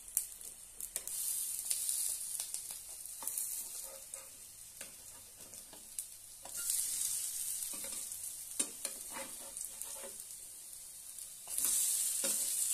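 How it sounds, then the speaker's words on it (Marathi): A bread snack fries in a little oil in a pan, giving a steady close hiss of sizzling broken by intermittent scraping and stirring knocks, with the sizzle swelling louder near the end. "अशा पद्धतीने आपण कमी तेलामध्ये फ्राय करून घेऊया।"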